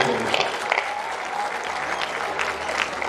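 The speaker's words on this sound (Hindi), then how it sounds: "शर्त इतनी सी है, जोरदार तालियां बजाओ।" Audience applause at a Hindi poetry gathering during the Gorakhpur Mahotsav 2021 kavi sammelan, a dense, steady wash of clapping from a large crowd with faint voices mixed in.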